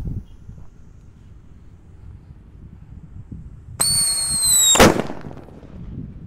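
A large whistling firecracker: a rising shrill whistle starts suddenly and screams for about a second, then ends in a loud sharp bang, followed by fading rumble.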